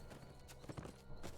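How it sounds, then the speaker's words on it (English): A horse's hooves clip-clop in the Dungeons and Dragons Online video game, as a quick, even run of light hoofbeats over a low background bed of game sound. "I'm gonna get on the horse."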